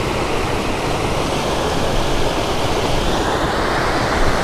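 Water rushes steadily through a rocky river canyon at Kadiya Dhro in Kutch, a loud continuous broadband roar with no pauses, heard close and alone.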